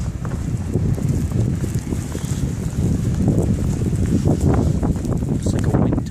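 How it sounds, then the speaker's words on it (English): Strong wind buffeting the microphone in a blizzard with blowing snow while walking outdoors, a loud, continuous gusty roar with faint crunching footsteps. "See all this blowing snow."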